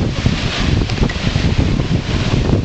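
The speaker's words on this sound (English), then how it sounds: "20, 25 knots of wind" Strong wind of 20 to 25 knots buffets the microphone aboard a sailboat crossing the Great Barrier Reef in Australia, a loud, continuous low roar with gusty rumble and water wash beneath, no voices.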